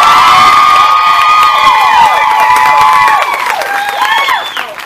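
Large outdoor concert audience at a show in Kearney, Missouri, roaring with sustained cheers, whoops and high shouts over applause, loud throughout and easing slightly toward the end.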